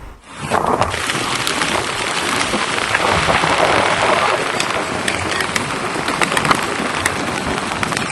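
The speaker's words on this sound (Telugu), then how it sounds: "ఉరుములు మెరుపులతో కూడిన ఈ వర్షం" Steady heavy unseasonal rain pours down continuously on maize crops in Nagarkurnool, a dense broadband hiss with scattered drop impacts throughout; no distinct thunder clap stands out.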